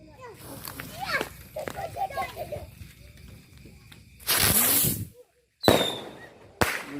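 Circle Blitz mercon firecrackers are set off on a Ramadan night, bursts of loud crackling blasts after a stretch of excited children's voices and chatter, followed by a brief hush and further sharp explosive crackles.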